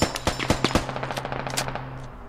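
Rapid gunfire in the video game Squad during a large British counter-insurgency battle: a fast burst of sharp automatic shots, loud at first then thinning into quicker, fainter cracks, with no talking.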